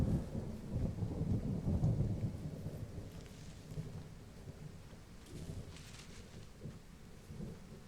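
Rain and rolling thunder in the video game Firewatch VR: low rumbles swell and fade beneath a steady patter of rain on surfaces, moderately quiet, with no speech.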